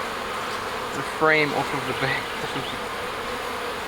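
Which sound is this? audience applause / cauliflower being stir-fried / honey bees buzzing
honey bees buzzing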